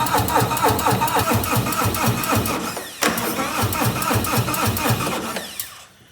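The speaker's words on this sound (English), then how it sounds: "we're gonna run this bike until it stalls, and then I'm gonna cycle the starter a couple of more times" A Harley-Davidson Touring motorcycle engine idling steadily in a workshop, a loud continuous mechanical chug with a brief dip midway, then faltering and cutting out near the end as it stalls from fuel running out.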